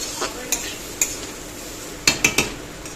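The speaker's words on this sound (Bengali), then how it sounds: "আর এখানে দেখো আলু ভাজা বসিয়েছে।" Potatoes fry in a pan with a low sizzle underneath while a spatula scrapes and clinks against the metal, about seven sharp strokes, including a quick cluster of three, close by and without talk.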